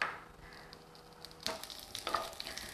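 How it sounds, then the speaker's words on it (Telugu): Sweet potato chunks frying in ghee in a pan, giving a soft steady sizzle that brightens into a few louder crackling bursts partway through, with no talking. "జస్ట్ ఒక 1 టీ స్పూన్ నెయ్యి మాత్రమే వేస్తున్నాను."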